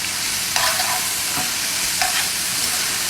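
Mint chutney ingredients sautéed together in a pan give a constant hiss of frying, with a few sharp scrapes of a spatula at intervals, close by and without speech.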